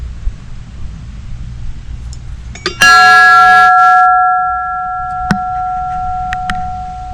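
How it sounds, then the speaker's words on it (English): A memorial bell donated by an NYPD officer at Curlew Hills Memory Gardens in Palm Harbor, Florida, is struck once, giving a loud bright clang that rings on and slowly fades, followed by a few faint lighter taps. "here's a bell that was donated by Joseph Michael O'Daly of the NYPD."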